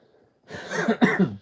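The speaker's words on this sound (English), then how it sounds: "just coughed while I'm trying to do a breath" One person coughs once during a reading aloud: a short, close, breathy double burst of noise with a small catch in the throat, alone without speech.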